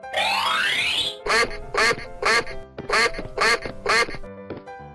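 A duck toy quacks from a giant PacPac animal fountain-crossing transformation set: a rising electronic tone gives way to five loud, evenly spaced quacks, close and clear, with a faint beep at the end.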